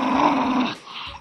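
A close, deep dog growl, rough and rumbling, lasting about a second before tapering off.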